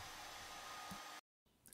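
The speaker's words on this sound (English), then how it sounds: "I'll use a hairdryer to warm it up" A handheld hairdryer blows warm air onto a chunk of Plastilina modeling clay with a steady, close, broadband whoosh that cuts off abruptly for a moment, then starts again.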